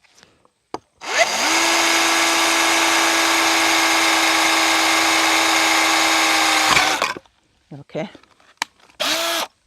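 A power drill bores a hole through the center of an upcycled birdhouse, a loud steady whine lasting several seconds before winding down; a voice speaks briefly afterward amid light handling noises.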